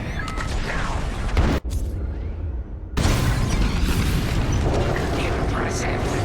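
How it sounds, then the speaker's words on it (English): Bombs exploding during a raid in the Star Wars Squadrons video game: loud, dense booming blasts and rumbling, broken by a brief near-silent gap before the explosions surge back heavily. "On my mark, it's bombs away."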